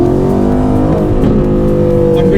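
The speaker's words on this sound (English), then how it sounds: "It's also the one to choose if you want your popcorns and crackles from the exhaust." An Aston Martin Vantage engine drones loud and close in track mode, a steady exhaust note that shifts pitch slightly as the car drives on, heard on its own without talking.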